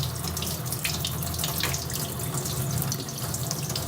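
Water pours from a sink tap in a steady, loud, unbroken rush, close by and alone without any talking.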